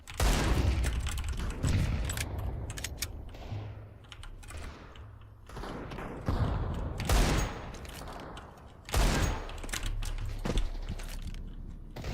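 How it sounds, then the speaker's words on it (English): Counter-Strike 2 gameplay with a thrown flashbang grenade: loud, sharp bursts and rattling gunfire that rise and fall across the clip, with busy clicking in between. "Throwing flashbang."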